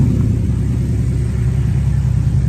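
A muscle car with hideaway headlights, power brakes and power steering idles steadily with a low, even rumble, close and alone.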